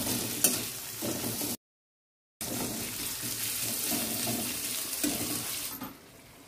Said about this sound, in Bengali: পেঁয়াজ কুচিটাও দিয়ে দিয়েছি। ওই হালকাই একটু সাঁতলানো হবে